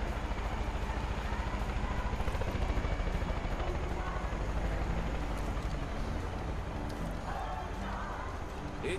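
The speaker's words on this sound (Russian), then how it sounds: "вертолет, прячемся за дерево" A helicopter in the Far Cry 5 video game flies overhead, its steady rotor thrum loud and continuous throughout with a rhythmic chopping pulse, a few faint clicks and game sounds mixed in.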